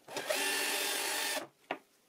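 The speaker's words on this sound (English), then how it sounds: "Now I unscrew the top piece of plywood." A power drill whirs steadily for over a second as it backs screws out of the plywood top piece of a homemade drum sander jig, followed by a short sharp click.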